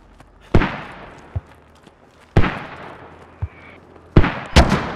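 Mortar rounds fire and burst in a tactical multiplayer squad video game: three or four sharp, cracking booms spaced a second or two apart, with short rumbling tails and softer thuds between them.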